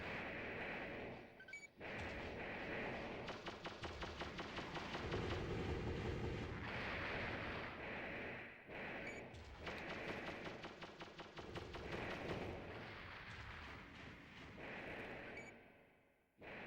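Sustained gunfire and heavy blasts from enemies shooting at a mech in the PlayStation game Armored Core 1, loud and continuous with repeated booming impacts and no talk.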